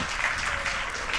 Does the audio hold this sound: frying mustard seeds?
no